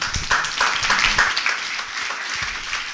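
Audience applause at a panel discussion on architectural education, a steady patter of clapping from a modest crowd with some voices mixed in, ending with a speaker beginning to talk.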